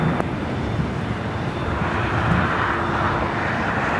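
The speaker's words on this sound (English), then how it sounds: "we do have that 777 freighter now rolling down" A Boeing 777 freighter rolls down the runway at LAX, its jet engines producing a steady broad roar heard from a distance, with a faint whine running through it and no talk.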